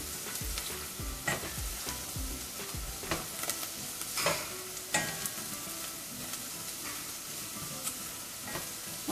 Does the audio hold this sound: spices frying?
yes